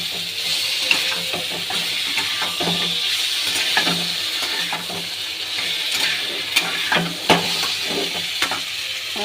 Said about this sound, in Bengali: এবার একটু জল অ্যাড করবো, মশলাটা কষে নেবো।